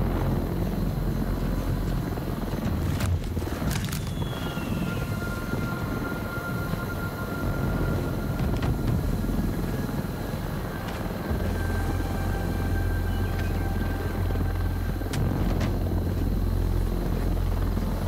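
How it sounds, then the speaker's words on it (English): A helicopter in the video game Arizona Sunshine 2 whirs with a steady rotor drone across the whole stretch, joined by occasional sharp clanks and a faint tonal whine, and no one speaks. "Getting up to that chopper, Fred"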